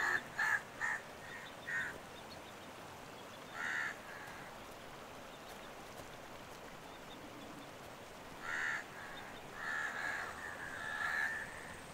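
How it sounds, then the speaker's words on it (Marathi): Crows caw in short rhythmic bursts, a quick run of calls at first, then a single call and a later cluster, fairly faint and distant over a soft steady outdoor hiss. "आले आले आले कावळे आले नाना. कावळे आले."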